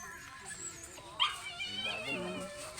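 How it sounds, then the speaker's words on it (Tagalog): A single small dog yip rises briefly amid faint outdoor background noise, followed by quiet whining and distant voices. "May aso."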